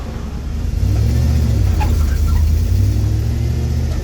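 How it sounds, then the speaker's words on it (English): A manual-transmission car with a carbureted LS engine pulls away from a stop as the clutch is let out, its loud, close engine rumble swelling and holding steady under acceleration. "I'm gonna go ahead and let off the clutch and accelerate."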